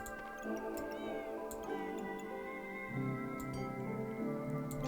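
A cat meows in the video game Backpack Battles, short rising mews layered over steady game music with occasional ticking clicks.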